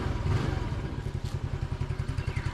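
A cheap motorbike in the Philippines idles close by with a steady, rapid low putter and a light mechanical clatter, and no voices are heard.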